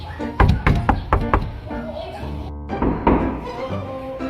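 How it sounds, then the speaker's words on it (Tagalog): A series of sharp knocks on a house door, about six quick raps close by, followed by people speaking. "May kumakatok na naman."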